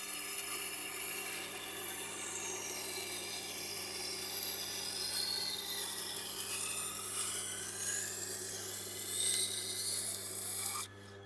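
A knife blade scrapes steadily against a Tormek grinding wheel in light sharpening passes, a continuous close rasping hiss over a low motor hum that stops abruptly at the end.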